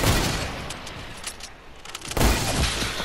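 Video game gunfire in Fortnite: a short, loud volley of broadband shots, with a heavier burst near the end.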